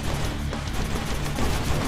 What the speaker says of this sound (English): I'm shooting him, there's no friendly fire